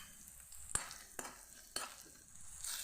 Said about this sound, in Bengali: হলুদটাও মশলার সঙ্গে আমি খুব ভালো করে ভেজে নেব।